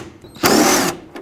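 A power tool with a 10mm socket spins out a bolt securing the wiper motor on a 2001-07 Toyota Sequoia, one sustained whirring burst of about half a second, loud and close, with quiet gaps before and after.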